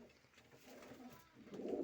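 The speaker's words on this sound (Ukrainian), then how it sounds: "Такий ось красний голубочок." A red domestic pigeon cooing softly nearby, low murmuring coos that swell louder toward the end against a quiet room background.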